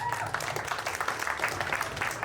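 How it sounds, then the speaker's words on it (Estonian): Audience at a women's strongman competition in Jõgeva applauds, a fairly faint, steady patter of clapping lasting a couple of seconds with a voice murmuring beneath it. "teeme aplausi Kristile"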